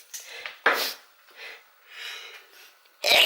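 Someone sneezes close up during cooking and diet prep, with a sharp burst near the start and another at the end, separated by sniffs and breathy noises.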